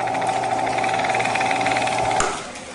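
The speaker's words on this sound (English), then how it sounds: "now I'm just going to slide this over the drill press" A drill press spins steadily while winding wire for a primitive radio coil, a loud continuous motor whine with a rough buzzing texture that drops off near the end.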